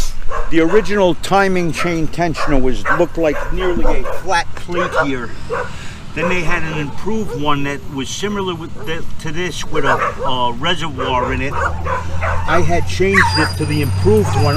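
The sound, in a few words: dogs barking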